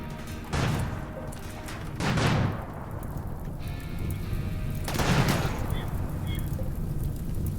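Explosions in the video game RimWorld: three broad, rumbling booms spaced a couple of seconds apart, set against a steady noisy background of battle sounds.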